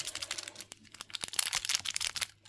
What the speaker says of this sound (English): Now I'm going to strategically cut this packet